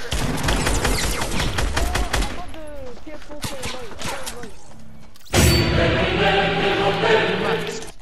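Shotgun blasts and gunfire in the battle-royale video game Fortnite, loud sharp bursts repeating during a fight, with a sudden dense burst of shooting near the end and excited players talking over it.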